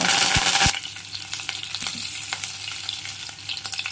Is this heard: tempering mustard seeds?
yes